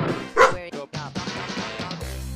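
A dog barks in short yips and bow-wows over a background of music, a few quick close barks near the start before the music carries on.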